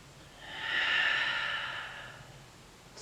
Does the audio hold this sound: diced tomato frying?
no